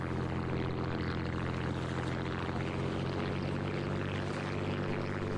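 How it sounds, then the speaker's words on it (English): A constant-speed propeller plane in a flight video game runs in reverse pitch, giving a steady, droning engine and prop hum that holds level throughout with no talking. "We have a constant speed prop that we can throw into reverse on this plane at least"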